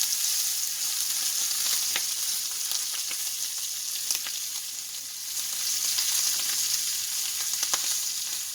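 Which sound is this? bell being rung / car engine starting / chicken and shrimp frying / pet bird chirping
chicken and shrimp frying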